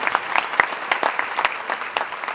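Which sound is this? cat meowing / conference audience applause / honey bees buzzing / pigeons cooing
conference audience applause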